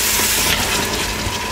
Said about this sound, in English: Now you want to take your peas and put it right in the pot. Make sure you stir it.